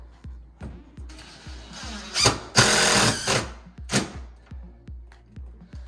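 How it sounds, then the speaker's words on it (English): An impact driver drives a screw through a handrail bracket into a wall stud, with loud hammering bursts of rapid impacts between quieter rhythmic ticking and clicks. "So impact driver, get our bracket on."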